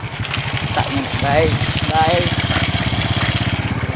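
A motorcycle engine chugging steadily while riding off-road over rocky ground, a close, loud pulsing throb throughout, with someone talking over it.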